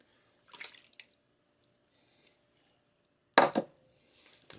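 A spoon clinks and scrapes against a pot as diced pre-cooked shrimp is stirred into freeze-dried jambalaya soup, in two short bursts with a pause between them, close and fairly soft.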